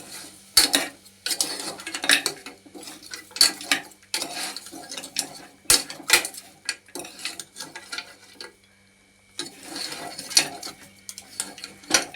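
Mutton soup being stirred with a spoon in a metal pot after salt goes in, bursts of clinking, scraping utensil strokes in an irregular rhythm with short pauses, close and moderately loud, no talking.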